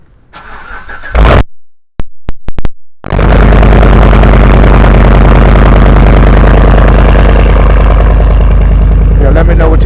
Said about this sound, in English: Quick cold start, guys, while it's drying down.